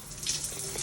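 Shower water running steadily and close, a continuous hiss and splash with no voices.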